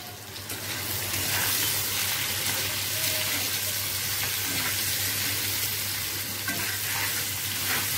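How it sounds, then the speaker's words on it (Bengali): Boiled potatoes frying in a pan over lowered heat with salt, a constant close sizzle with soft stirring scrapes throughout, no talk. "আলুগুলোকে একটু ভাজা ভাজা করে নিই।"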